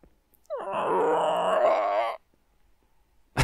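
A voice imitates the Flood creature noises from Halo by breathing in, producing a single sustained, strained, groaning rasp of about a second and a half, close and loud, followed by silence.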